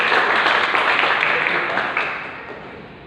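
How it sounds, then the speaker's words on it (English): Dense applause from members of a university Toastmasters club, a full wash of many hands clapping at once that holds steady, then gradually fades toward the end. "give applause"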